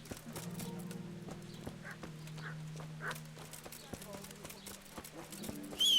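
In the medieval game Kingdom Come: Deliverance, a horse's hooves clop in scattered soft steps over a low droning ambience, fairly quiet and somewhat distant, with a brief sharper sound at the end.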